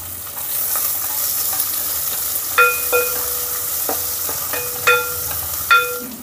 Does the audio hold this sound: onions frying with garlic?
yes